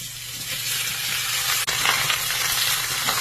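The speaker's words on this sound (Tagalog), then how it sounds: "sa isang wok, lagay natin yung bulaklak ng baboy at yung pinakuluan nating karne ng baboy" Pork and pork intestine frying in a wok, a steady loud sizzle with stirring clatter and one brief clank partway through.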